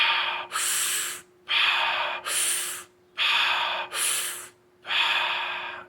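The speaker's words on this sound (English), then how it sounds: "it's basically 30 deep breaths in," Deep, forceful breaths in the Wim Hof breathing method, alternating rushing inhales and exhales in a steady rhythm, close and loud with no talking.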